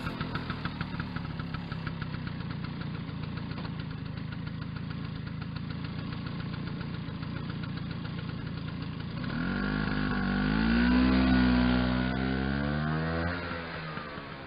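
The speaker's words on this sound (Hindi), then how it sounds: "मेरे स्कूटर पे बैठिए।" A scooter in a radio drama idles with a steady, knocking putter, then revs up into a louder rising drone as it pulls away, with no voices over it.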